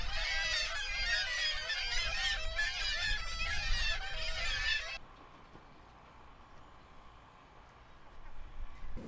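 Seagulls nesting on town buildings call in a loud, raucous, overlapping chorus of squawks for about five seconds, then fall away to faint background sounds with a few distant cries.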